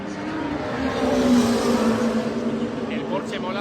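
A Porsche hypercar engine at the Le Mans 24 Hours gives a steady droning roar. It holds at moderate loudness, and someone talks over it.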